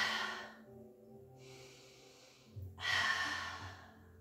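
Slow, audible breaths during a resistance band pilates exercise: a long airy exhale, a quieter pause, then another deep breath, close and unaccompanied by talk.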